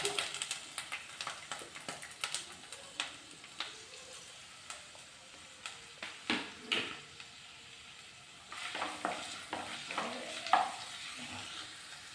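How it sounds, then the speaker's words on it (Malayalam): Medium-sized onion and two green chilies sautéed in coconut oil in a pan, a steady quiet sizzle broken by repeated scraping stirs that grow busier toward the end. "ഒരു മീഡിയം സൈസ് സവോളയും രണ്ട് പച്ചമുളകും കൂടി ചേർത്ത് നന്നായിട്ടൊന്ന് വഴറ്റാം"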